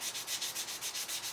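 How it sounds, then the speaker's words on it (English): Fine sandpaper rubs over a black walnut knife handle in quick, even back-and-forth strokes, about ten close passes with a steady rhythmic hiss. "So we're going to do a little bit of fine sanding here."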